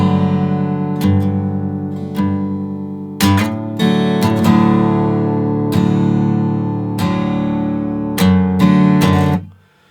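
An acoustic guitar in open D tuning picks out the opening line of a song. Clear, close notes ring out in short phrases with brief strums between them and a final fade to silence.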